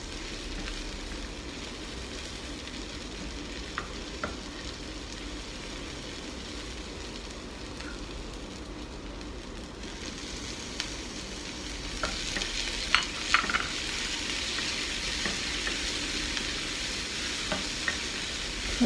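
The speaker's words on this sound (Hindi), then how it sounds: "अभी हल्का सा आपने इसको स्टोर फ्राई करना है, इतना डीप फ्राई नहीं करना" Food is lightly stir-fried in a pan with only a little oil, giving a steady, close sizzle with occasional sharper crackles and spoon-stirring clicks that grow busier toward the end.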